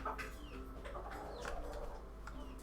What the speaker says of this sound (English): You guys probably hear all the chickens.